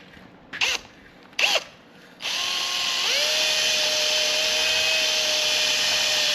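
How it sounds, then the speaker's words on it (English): A drill fitted with a nylon bristle wheel scrubs corrosion from a 1970 VW Bus camper jalousie window frame. Two short bursts come first, then a close, continuous whirring spins up and holds a steady pitch, with no talking. "Basically, this is just a wheel with like nylon bristles on it."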